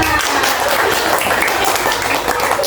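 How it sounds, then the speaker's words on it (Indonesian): A group of children in a storytelling class clap their hands together on cue, a dense, loud, steady patter of many hands close by, continuing without pause for a few seconds. "Tepuk tangan untuk kita semua"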